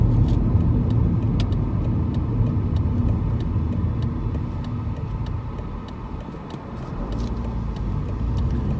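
A BMW E46 3 Series Compact with a 115 horsepower engine drives along, a steady loud road rumble and engine drone from inside the car that dips briefly before building again.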